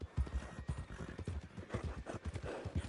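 Hooves of a horse clip-clopping in Red Dead Redemption 2, a quick rhythmic series of soft close thuds on the ground, fairly quiet.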